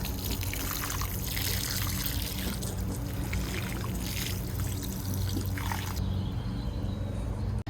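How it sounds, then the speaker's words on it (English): Water pours steadily into a container of verbena and yellow wave petunias, a continuous splashing trickle with a low background hum throughout, no voices. "And then we'll just water it in good."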